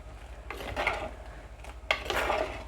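Two short bouts of a spoon scraping and stirring through a thick tomato and drumstick curry in a metal pot, close up, with quiet pauses between.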